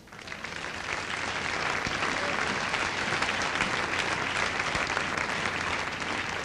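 Strong, sustained applause from a church congregation fills the room for several seconds, a dense and even roar of clapping that swells in and holds.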